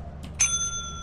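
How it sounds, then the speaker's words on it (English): A single bright bell strike in the video game Lethal Company, a quick metallic ding whose clear ringing tone sustains and slowly fades, alone over a quiet background. "ring the bell"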